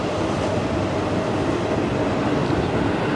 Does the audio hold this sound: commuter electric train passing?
yes